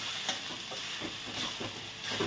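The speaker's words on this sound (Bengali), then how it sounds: "এখন একটু নেড়ে দিব" A spoon stirs coriander and turmeric powder in a hot pan for an aloo sooji snack, with soft sizzling and a few quiet scraping strokes close by.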